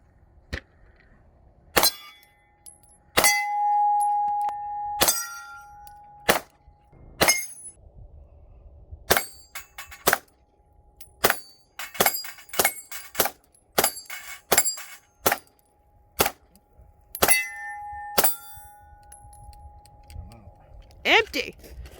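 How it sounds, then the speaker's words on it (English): Sharp, loud shots from a SAR USA K12 Sport semi-automatic shotgun ring out at an outdoor range, about twenty reports in irregular bursts with short pauses, each a sudden broadband crack that fades quickly, with faint speech in between. "Empty. Nice shooting, Tex."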